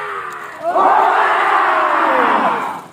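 Firefighter trainees at a basic fire-fighting course shout hooray together in unison, a loud group cheer that swells and holds for about two seconds before fading.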